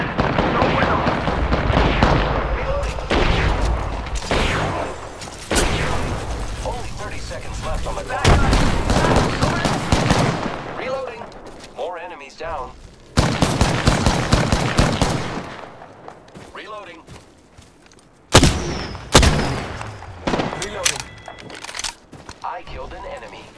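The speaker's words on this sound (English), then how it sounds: "The enemies are shooting at me." Enemy gunfire in a shooter video game: repeated loud bursts of rapid shots and heavy impacts, interrupted by brief lulls, with game sounds and a voice talking over parts of it.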